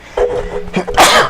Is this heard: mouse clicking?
no